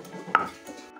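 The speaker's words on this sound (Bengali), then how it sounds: "থেতো করে নিচ্ছি।" Ginger and garlic being crushed for an egg curry, one short close thud-and-scrape at about a third of a second, then a soft lingering clatter, quiet overall.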